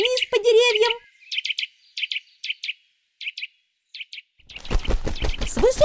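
Eurasian nuthatch calls in a cartoon: a run of short, sharp, high chirps repeated in small bursts, heard alone between a voice at the start and narration returning at the end.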